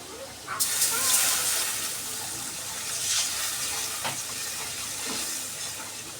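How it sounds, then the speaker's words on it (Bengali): A splash of water hits a frying spice paste of cumin, turmeric and chili in hot oil. A loud hissing burst of steam follows, then settles into a softer steady sizzle with occasional stirring taps. "অল্প পরিমাণে জল দিয়ে দিলাম। এখন মশলাটাকে কষিয়ে নেব ভালোভাবে।"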